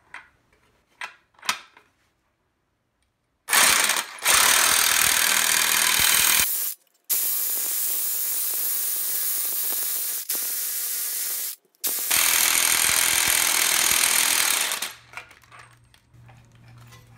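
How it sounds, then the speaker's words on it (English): A wheel hub shaft being pressed into a bearing's inner race in a garage, heard as a few clicks and then long, loud bursts of a pneumatic or hydraulic press hissing and grinding, broken by brief pauses. "we'll press that into the inner part of the bearing race"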